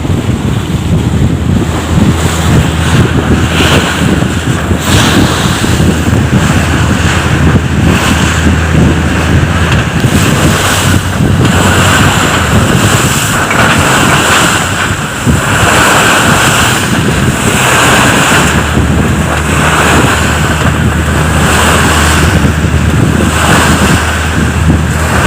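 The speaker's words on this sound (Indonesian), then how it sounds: "nah di sini kita bisa lihat ombaknya yang sangat besar ya" Large waves churn on Lake Toba in a continuous loud roar of surf and water, mixed with heavy wind buffeting the microphone, with no talking.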